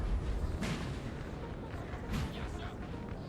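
Artillery fire in a war strategy game: steady low rumbling barrage with a couple of heavier distant booms rising over it, continuous and moderately loud, no clear speech.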